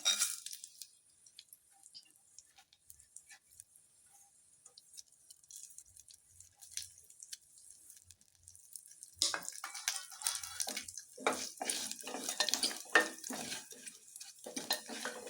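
Spices hit hot oil in a pan, and after a long near-silent stretch a bright, crackling sizzle rises and keeps spitting irregularly, moderately close.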